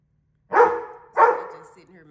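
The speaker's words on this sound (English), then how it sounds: "And Kyro, you don't even bark, Kyro" A pet dog at home gives two loud, close barks about half a second apart, each trailing off, with quiet before and after.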